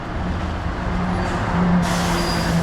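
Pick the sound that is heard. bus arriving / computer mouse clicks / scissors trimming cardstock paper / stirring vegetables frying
bus arriving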